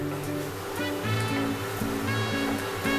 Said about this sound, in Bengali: আমি এখানে বাটি ধোয়া যে জলটা ছিল সেটা আমি এখানে ব্যবহার করলাম